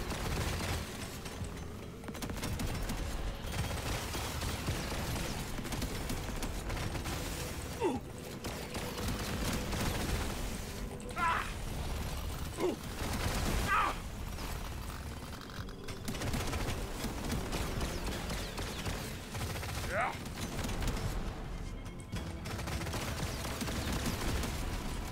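A smart rifle firing at enemies in the video game Deep Rock Galactic: Survivor: rapid, repeated shots crackle through a dense, constant wash of game noise, with a few brief sharper bursts standing out.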